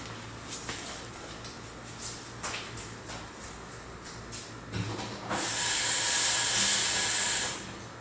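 A measuring spoon gets rinsed under a running tap while preparing Kratky hydroponic nutrients: a few short splashes, then a loud steady hiss of water lasting about two seconds before it shuts off, with no talking.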